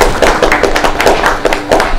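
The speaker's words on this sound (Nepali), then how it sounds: "एकचोटि उहाँहरूलाई ताली बजाउँ" An audience claps steadily for the hosts of a studio show, a dense, continuous patter of many hands, loud and close.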